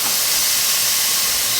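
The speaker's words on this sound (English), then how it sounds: "So we're just frying up our burgers now." Burgers sizzle in a pan, a steady broadband hiss and crackle of frying meat with no pauses, close and fairly loud.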